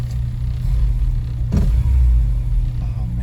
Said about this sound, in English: JDM engine, buddy. A little bit more torque, a little bit more horsepower.